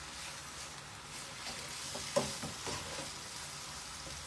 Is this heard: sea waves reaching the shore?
no